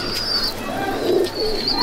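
Pigeons coo softly and repeatedly in a loft at Sangrampur, close and low, with light chirps mixed in.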